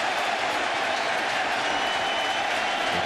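Baseball stadium crowd during a Phillies at Mets game applauding after a second out, a broad, steady wash of clapping and crowd noise at even loudness throughout.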